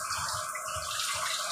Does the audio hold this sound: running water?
yes